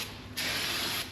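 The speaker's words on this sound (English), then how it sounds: "spray our caliper down" A can of brake cleaner hisses in a single short, steady burst onto a car brake caliper, loud and close, following a brief faint lead-in.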